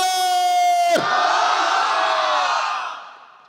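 A large crowd at an outdoor religious sermon roars together in a loud takbir chant, a strong unified shout that swells for about a second and then trails off into a broad, fading wash of many voices.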